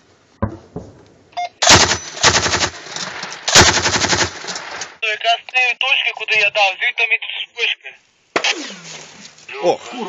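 Enemy sniper and automatic gunfire under mortar threat, loud close bursts of rapid shots between stretches of shouting voices and radio chatter.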